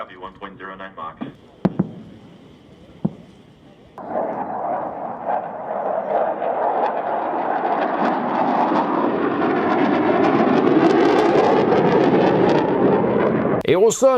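NASA's Lockheed Martin X-59 supersonic jet flies past, a broad, steady roaring rush that swells in and holds loud for about ten seconds after a few opening seconds of speech and sharp clicks.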